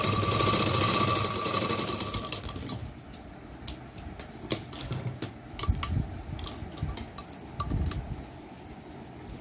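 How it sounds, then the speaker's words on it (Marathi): A sewing machine runs in a rapid, whirring burst while stitching a double seam, then gives way to scattered clicks and light handling taps of fabric and parts. "शिलाई करताना डबल शिलाई करा."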